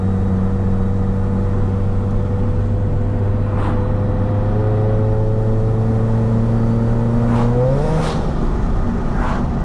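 Interior drone of a car running on a newly welded exhaust, a steady close engine hum that holds for several seconds, then climbs sharply as the driver accelerates, with road noise throughout and no voices.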